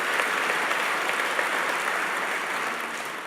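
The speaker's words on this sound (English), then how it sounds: "that deserves a round of applause" Steady audience applause at an annual meeting, a dense, even wash of many hands clapping that holds at a constant level for the whole stretch with no voices on top.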